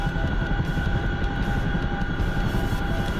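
Chinook helicopter rotor and engine drone, a steady loud low rumble with a constant whine filling the whole stretch, no voices.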